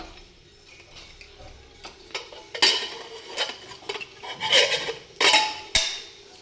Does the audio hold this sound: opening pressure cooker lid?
yes